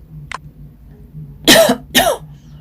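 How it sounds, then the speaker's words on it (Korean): A short cough after a brief faint sound, then two sharp throat-clearing coughs close by, with silence between them. "기침을 했어요, 선생님이 갑자기"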